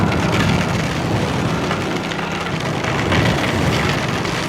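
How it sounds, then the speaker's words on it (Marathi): Heavy rain pours steadily in a dense, continuous hiss with no pauses, loud and close, heard during a motorcycle ride. "जाम पाऊस सुरू झाला आहे."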